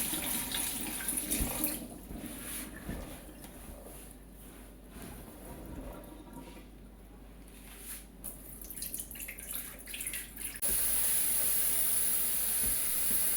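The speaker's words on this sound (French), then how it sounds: "Je mets de l'eau claire et propre." Clean water poured into a container to replace fermented soaking water while making chikwangue cassava bread, heard as sloshing, splashing and dripping, then a steady rush of running water near the end.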